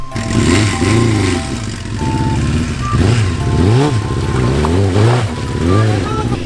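Honda CBR sport motorcycle with a sidecar basket and car seat revs hard as it pulls out of mud and water, the engine droning loudly and rising and falling in pitch while people talk and shout over it nearby.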